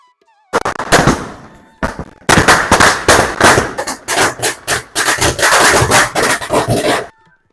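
A long string of Diwali firecrackers pops in rapid, loud bursts, crackling almost continuously for several seconds with a couple of short pauses.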